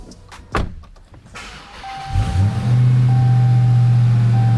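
A Dodge Charger Hellcat Redeye engine, built up from a V6 rental car, cranks briefly and then catches into a loud, steady, deep idle that holds for the rest of the stretch without clear revs.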